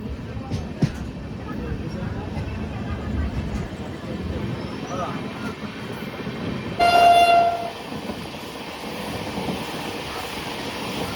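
A fast passenger train on the Hubballi–Srisailam run rolls from Koppal toward Munirabad with a continuous rumble, and a loud horn blast sounds about midway; voices can be heard faintly.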